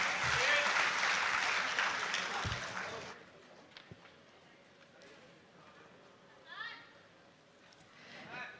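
Applause for Deputy Chief Minister Pawan Kalyan bursts out loud for about three seconds at a public event, then cuts sharply to a quiet background with faint, scattered sounds.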